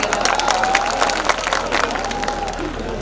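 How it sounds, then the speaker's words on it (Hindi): Audience at a mushaira claps steadily throughout, a dense, continuous patter of applause from a crowd with a sustained tone and faint voices mixed in. "ताली बजा के मुझे हुक्म दे दें।"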